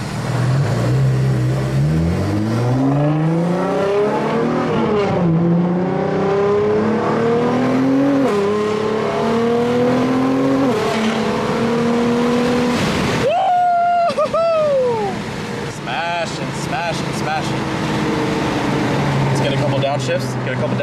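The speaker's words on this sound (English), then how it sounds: "You could just enjoy the exhaust with me real quick." A modified, fully built car's exhaust drones and rises through repeated revs and gear changes, loud and close, then cuts to a sharper higher rasp, with talking at times.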